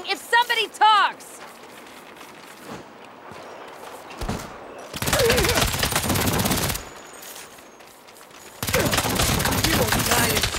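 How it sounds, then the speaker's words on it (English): Bursts of gunfire from a shootout in the video game Saints Row, a brief volley at the start followed by two long loud stretches of rapid automatic fire, with shouting voices between. "Stop shooting if somebody talks!"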